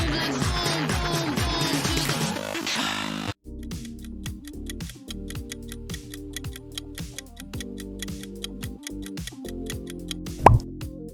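The Pepsi logo sound plays as bubbly, plopping fizz with swirling tones, then cuts to a ticking, rhythmic musical jingle that ends in a bright accent.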